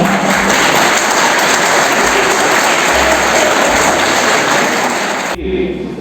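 An audience in a college auditorium at a meditation programme breaks into loud, dense clapping that carries on for about five seconds before cutting off abruptly.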